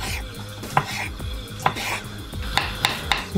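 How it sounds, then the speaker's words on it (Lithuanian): Boiled carrots being diced into cubes with a knife on a cutting board, giving a run of crisp, close chopping taps that quicken toward the end, with no talking. "Supjaustime į kubeliais."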